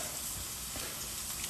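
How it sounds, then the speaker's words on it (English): Chicken sizzling and crackling in a hot skillet while a creamy chicken pasta is being cooked, a continuous close hiss of frying with scattered small pops and snaps throughout. "you hear that sizzle right there? You hear that snap, crackle, pop?"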